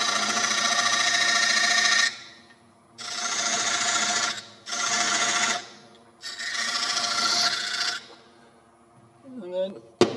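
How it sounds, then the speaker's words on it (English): A parting tool cuts into turning wood for a textured wall plaque at a woodturning club demonstration, giving four loud rasping bursts separated by short pauses, followed by a brief bit of talk at the end. "Shove a parting tool in."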